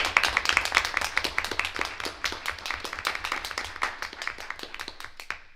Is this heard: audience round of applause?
yes